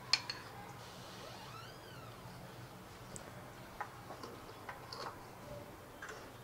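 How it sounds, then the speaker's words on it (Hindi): Cornflour and flour batter for a Hyderabadi Apollo fish fry is mixed by hand in a bowl, making faint scattered clicks and light taps, quiet and without talk. "अब इसे हम अच्छे से मिक्स कर रहे हैं।"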